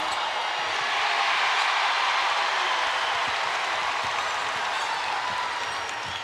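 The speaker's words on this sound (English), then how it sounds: "You hear that? The fans are in Greenville." Basketball fans cheering and applauding inside the Greenville arena during a women's SEC Championship game between South Carolina and Tennessee, a steady loud roar of crowd noise sustained throughout without a break.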